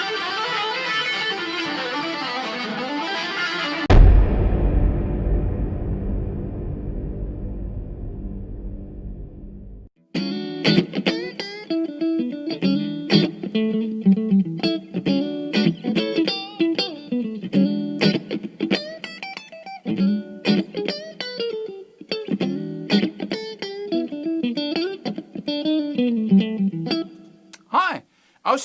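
Distorted electric guitar playing a legato exercise of hammer-ons and pull-offs, a quick run of connected notes after a long held chord rings out and fades, loud and close with effects.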